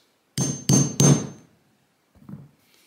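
Three sharp, close taps of a tool striking a wooden owl blank to mark the drill centre for the eyes ring out in quick succession, then one softer tap after a short pause.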